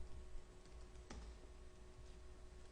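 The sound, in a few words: typing code on a computer keyboard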